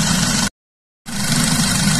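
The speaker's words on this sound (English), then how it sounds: "you can hear there's quite a bit of vacuum in the crankcase" Steady suction hiss from the open oil dipstick port of a 2010 Audi A4 Quattro with misfire and underboost faults, over a low idling engine rumble, close and fairly loud, cut by a brief total dropout midway.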